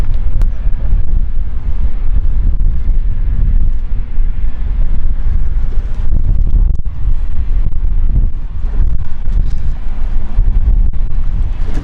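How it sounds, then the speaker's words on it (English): Strong wind buffeting an outdoor microphone beside London City Airport, a loud continuous low rumble and roar with gusty swells throughout, with no clear speech over it. "That wind is causing a bit of a shaky tripod here."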